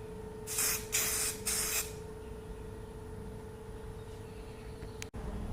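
Three short bursts of Bulldog adhesion promoter sprayed from a can onto car paint on a 2020 Dodge Charger R/T, each hiss about half a second long and close, followed by quiet room hum.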